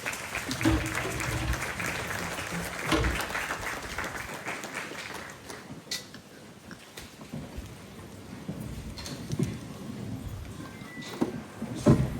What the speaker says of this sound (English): Again, a nice round of applause.